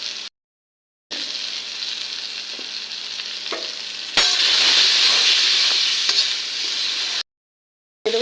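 Eggplant, potato and spinach fry in a hot pan with a steady hissing sizzle that surges louder midway as more goes in, broken by two brief silent gaps.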